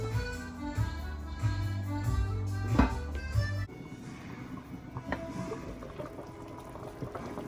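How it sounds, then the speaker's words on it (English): Corned beef and cabbage bubbling as it comes to a boil in a pot, a steady close liquid churn with a louder, fuller stretch early on before settling into a softer rolling simmer. "So right now we're gonna let this come up to a boil and then start simmering."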